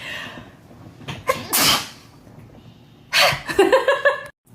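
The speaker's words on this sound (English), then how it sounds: "I have to sneeze, hang on." A close, loud sneeze cuts through a quiet indoor makeup tutorial as someone talks through brushing on eyeshadow, followed by a second burst of breathy, voiced noise as the person recovers.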